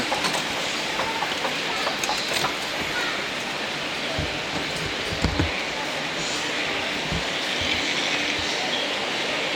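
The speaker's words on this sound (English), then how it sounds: "There's the Eurostar." A Eurostar train rumbles and hisses steadily in a large, noisy station, with a continuous wash of mechanical sound and faint background voices.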